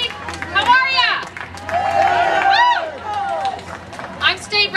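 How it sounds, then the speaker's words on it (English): Audience clapping and a few whoops greet State Representative Connie Pillage as she comes out at a morning event, a short burst of applause that rises and fades, mixed with cheering voices. "Please give her a round of applause."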